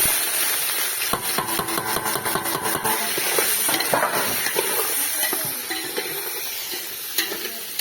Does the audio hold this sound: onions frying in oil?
yes